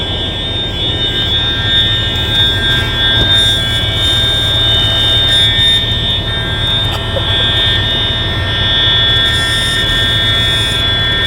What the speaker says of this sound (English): Somebody pulled that fucking alarm.